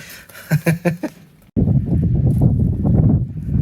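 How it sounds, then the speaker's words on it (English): A few sharp knocks, then strong wind on a mountain top buffets the microphone with a loud, rumbling roar that keeps going. "it's really windy up on top of the mountain here."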